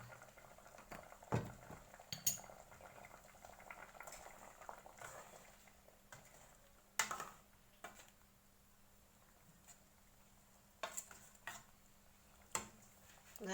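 A pot of mackerel and coconut milk curry with papaya at a gentle boil, giving sparse, quiet bubbling pops and soft blips scattered over a near-silent background, with a few sharper bursts.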